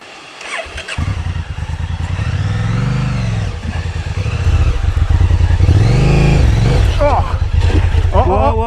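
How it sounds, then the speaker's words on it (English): Motorcycle engine revving hard during a rally hill climb, throttle rising and falling in loud, close surges that dip and climb again, with a voice briefly heard over the engine. "trying to work the throttle"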